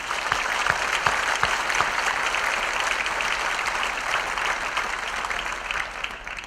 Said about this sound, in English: I think another round of applause for our veterans is more.